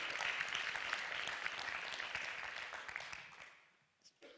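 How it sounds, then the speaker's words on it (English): Audience applause for Tom at a community values gathering, a steady wash of many clapping hands that fades out toward the end, followed by a brief moment of near silence and a faint sound. "let's give Tom a round of applause if you don't mind."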